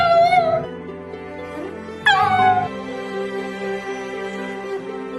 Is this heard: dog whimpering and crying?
yes